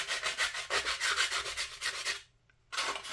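A sanding stick rubs flash off a 1/535 scale plastic USS Iowa model in quick, even back-and-forth strokes, a close dry scratching rhythm that pauses briefly and then resumes.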